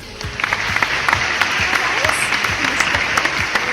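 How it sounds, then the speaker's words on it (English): A studio audience breaks into brisk applause, dense overlapping claps holding steady at moderate loudness, with voices mixed in beneath. "let's give a round of applause to Kelly"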